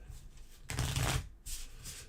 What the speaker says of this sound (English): Shuffle all dialogue cards back into the deck and drop to 8.